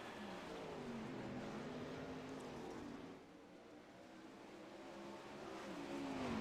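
Several 410 outlaw sprint cars race in a dirt track heat race, their engines roaring loudly and steadily, with a brief dip before the roar builds again.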